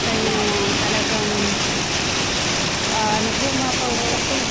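Clear spring water from an upland source pours and overflows at a scenic spot in Italy, a steady broadband rush like a small waterfall, continuous and fairly loud, with a voice faintly heard over it.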